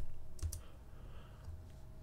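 Soft computer keyboard typing while entering a value in design software, a couple of faint key clicks over a quiet background hum.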